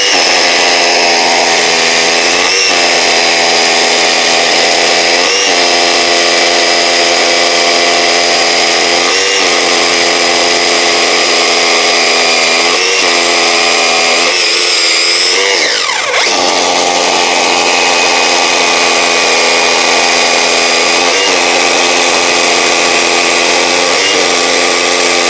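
A cordless battery rotary hammer drills into concrete with a loud, steady grinding drone and a regular hammering pulse, briefly dipping and stuttering midway before resuming at full power.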